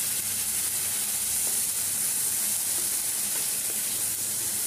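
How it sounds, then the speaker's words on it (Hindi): Chopped onions sizzle steadily in a hot pan over a medium flame, a dense continuous frying hiss with faint scrapes of stirring, close and unbroken throughout with no talking. "ये देखिए हमने चलाते हुए प्याज को भून लिया है"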